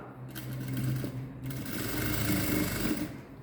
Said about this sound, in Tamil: இன்னொரு தையல் போட்டுக்கலாம்